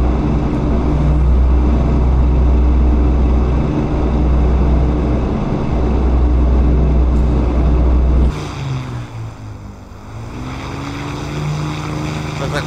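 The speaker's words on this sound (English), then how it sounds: "We are adjusting our engines" Twin piston engines of a de Havilland Mosquito FB VI in the DCS flight simulator drone loudly and steadily, then the tone shifts and wavers partway through as the engines are adjusted.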